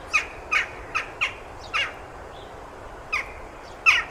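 Western jackdaw (Coloeus monedula) giving its sharp 'kia' call, about seven short metallic calls at irregular spacing, each one clipped and clear against a quiet background hiss, fairly near.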